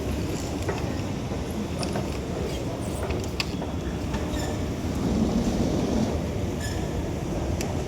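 Rumbling metro train in an underground station on the Noapara line, a steady low mechanical roar with faint creaks and squeals, continuous and fairly loud throughout without any talking.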